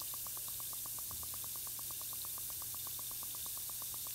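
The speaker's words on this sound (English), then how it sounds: "This one's creating some fun bubbles. You can hear them forming." Bubbles forming inside a Beaker Creatures reactor pod toy, a fast, even train of small popping bubble clicks over a soft fizzing hiss, close and steady throughout.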